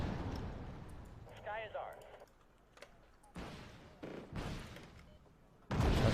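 Gunfire and missile launches from the modern military strategy game Wargame Red Dragon, set in a second Korean War campaign: repeated bursts and booms break out at intervals, while someone talks over much of the action.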